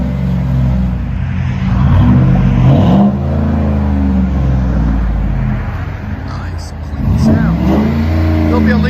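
A Lincoln Mark LT pickup with a 5.4L Triton V8 and Flowmaster Super 10 dual exhaust revs up and settles back, with a loud, deep, rumbling exhaust tone heard up close.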